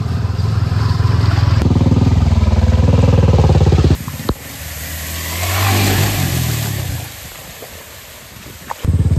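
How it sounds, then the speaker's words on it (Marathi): Cars drive ahead along a waterlogged rural village road during the monsoon, engines revving and tyres hissing through water, loud and close, the engine note rising and easing over several seconds with no talk. "आणि आपल्या गाड्या पुढे चाललेल्या आहेत."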